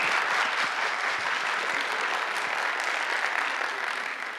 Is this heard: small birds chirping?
no